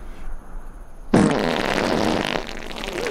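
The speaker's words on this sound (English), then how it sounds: "The farts are too much." Loud, close fart sound effect bursting in abruptly and sustaining as a long, buzzy, sputtering blast for over a second before trailing off into quieter rumble.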